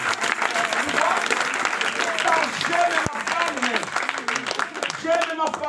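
A church congregation at a mothers' seminar closing applauds and cheers without pause, a dense, steady wash of clapping and raised voices filling the room from start to finish.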